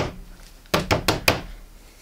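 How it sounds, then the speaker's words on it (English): A door is kicked in a horror film playing on a screen, four heavy booming thuds in quick succession, loud and close against a quiet background. "kick that damn door."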